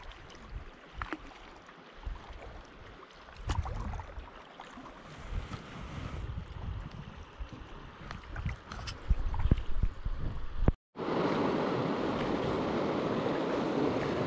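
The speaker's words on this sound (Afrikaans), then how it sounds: "Nou voel dit of ek op die see roei. Dit is baie golwe." Fast water and choppy waves wash continuously while a boat is rowed on the Orange River, with gusting wind buffeting the microphone and a sudden rush of louder, steady water noise near the end.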